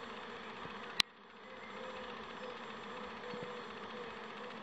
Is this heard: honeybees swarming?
yes